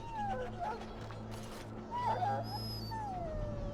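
A dog whimpering in Dragon Age: Origins, with thin high whines rising and falling over a steady low game hum, a few soft yelps and whimpers spread across the moment.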